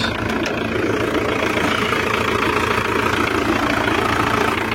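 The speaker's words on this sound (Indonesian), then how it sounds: "Terus untuk suara mesin juga halus." A rebuilt Kia Carnival diesel engine idles through its warm-up, a loud, steady, close rumble with an even mechanical clatter and no voices over it.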